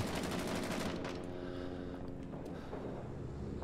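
A machine gun in Rising Storm 2: Vietnam fires a rapid, loud burst of rounds for about a second, followed by echoing reverberation and a few scattered shots as the din settles.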